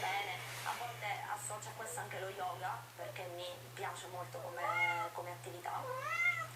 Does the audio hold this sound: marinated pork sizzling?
no